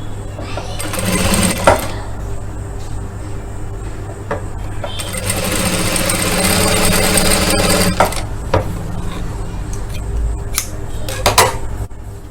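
Sewing machine stitching a blouse in bursts of rapid mechanical whirring, loud and close, with short pauses and clattering handling noises between runs.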